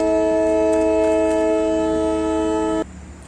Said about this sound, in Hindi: सो हॉर्न बजाना तो उनका काम है, क्योंकि नहीं तो सामने अगर कोई होगा तो अलर्ट नहीं हो पाएंगे कि सामने से ट्रेन आ रहा है